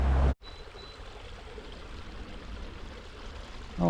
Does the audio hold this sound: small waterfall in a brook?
yes